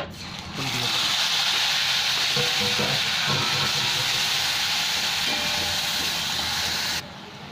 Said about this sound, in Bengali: এখানে আদা টমেটোর থেকে তেল ছেড়ে দিচ্ছে ভাজতে ভাজতে